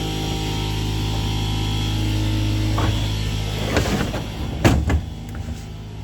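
A door rattles and bangs open and shut several times against a loud constant mechanical hum, the knocks sharp and close.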